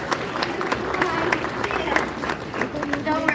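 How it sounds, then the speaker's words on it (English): A SeaWorld audience at an animal rescue show applauds for Boris the animal, with a steady wash of crowd clapping and murmuring, some sharper individual claps standing out, and a voice talking over it. "give Boris a big round of applause"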